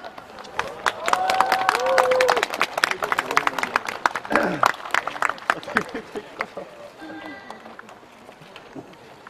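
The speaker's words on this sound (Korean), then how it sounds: "여러분 사랑스러운 박수를 부탁드릴게요" A concert audience at an outdoor pet-family show in Chuncheon bursts into lively applause, with sharp, close claps and cheering. A host keeps talking over the clapping as it thins out toward the end.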